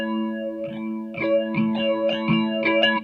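An electric guitar played through a PH2 phaser pedal at a high rate gives fast, warbly, sweeping tones over a sustained chord, then a run of rhythmic strummed hits, loud and close with no talking.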